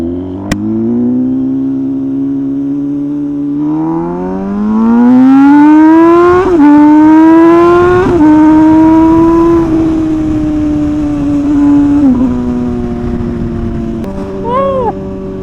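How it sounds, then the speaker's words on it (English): A loud MV Agusta Rush motorcycle with an SC Project exhaust revving and holding steady at night, its pitch climbing through gear changes with a deep, raspy exhaust note, close by and continuous. "enjoy the beautiful sound on of the MV Agusta Rush with the SC Project exhaust"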